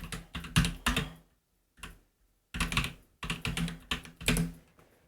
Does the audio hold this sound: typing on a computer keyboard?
yes